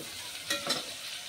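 Chopped onion sizzles in hot oil in a pan while a Hyderabadi chicken dum biryani is being made, with a steady soft hiss. A couple of brief stirring scrapes stand out midway, and nobody speaks.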